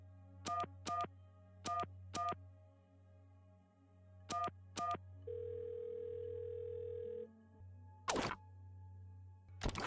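Phone call tone in the game There Is No Game: Wrong Dimension, a series of paired ringing beeps, then a sustained flat tone and a brief burst, over a steady low hum, clean and close.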